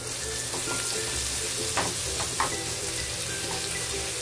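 Cumin and crushed garlic frying in oil for an arbi dish, a loud, steady close sizzle throughout with a few faint clinks of stirring and no talk.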